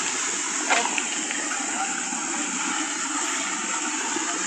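A person jumps into a river strewn with large boulders in Sogod, Southern Leyte, making one brief splash near the start against a steady rush of flowing water.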